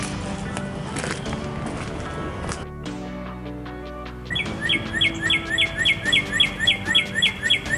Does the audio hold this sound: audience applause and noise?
no